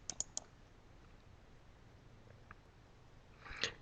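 A computer mouse gives a few quick, faint clicks in a quiet room while a file is opened in Excel, followed by another soft click burst a few seconds later.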